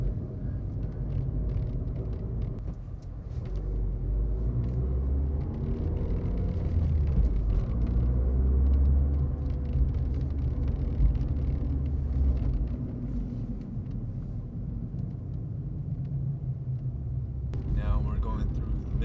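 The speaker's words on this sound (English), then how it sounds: "Right now we're going on the freeway just to get a sound of how the car sounds" A 2013 Fiat 500 Abarth turbocharged hatchback cruises on a freeway, heard from inside as a steady low engine and road rumble that swells briefly and stays constant, with faint occasional rattles.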